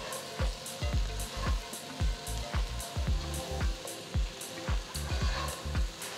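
Sliced mushrooms sizzle and fry in a pot for mushroom herb rice, a steady moderate crackle with regular soft stirring thumps recurring about twice a second.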